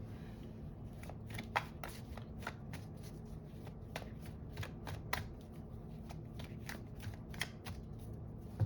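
Tarot cards are shuffled close by in a quiet room, giving a series of crisp riffling and snapping bursts at an uneven rhythm over a soft background hum.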